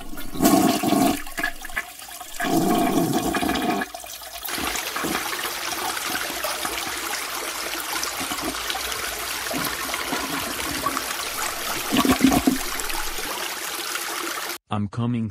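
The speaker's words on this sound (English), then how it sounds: "flush the toilet" A household toilet flushes loudly nearby, a rushing surge of water that runs for many seconds, then trickles and refills until it cuts off abruptly near the end.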